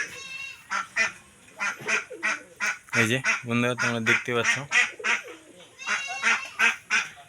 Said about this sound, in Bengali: আমার এই যে হাঁসগুলো কিন্তু খুব অত্যাচার করছে